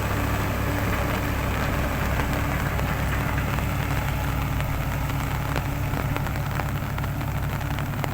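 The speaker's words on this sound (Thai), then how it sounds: "กลางสายฝนกระหน่ำลงมา" Heavy rain pours down in a dense, steady hiss, with a low engine rumble running underneath throughout.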